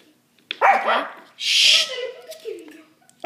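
Dogs bark outside, a few sharp yips and barks heard over a voiced exchange, with people talking before and after the bursts; moderately loud and somewhat distant.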